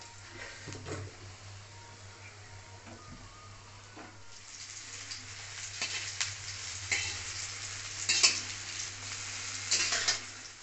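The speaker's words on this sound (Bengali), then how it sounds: "এইভাবে দিয়ে বড়াগুলোকে লাল লাল করে ভেজে নিতে হবে।" Masoor lentil fritters (bora) deep-fry in oil, with a soft bubbling sizzle that starts quiet and grows louder, along with occasional clinks and scrapes of a utensil in the pan.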